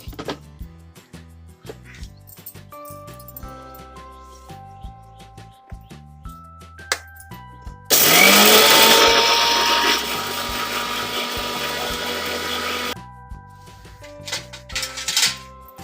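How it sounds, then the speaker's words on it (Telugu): A mixer grinder blends coconut, raw mango, salt, turmeric and green chillies into chutney, roaring loudly for about five seconds before cutting off, with kitchen clatter before and after. "ఇది మిక్సీ పట్టేస్తాను ఇప్పుడు."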